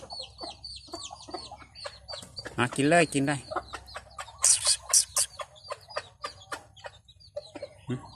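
Several farmyard chickens, including a brooding hen, cluck repeatedly and close by, with a loud squawking burst and scattered clucks throughout, while a person speaks at times over them.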